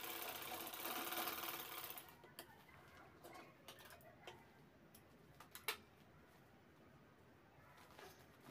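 A sewing machine stitches the corners of a handbag in a brief whirring run, then a sparse ticking follows, faint and quiet, with soft bird clucks in the background.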